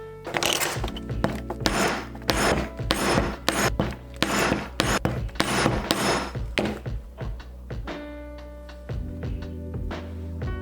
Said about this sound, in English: We're just gonna set these 4 rivets.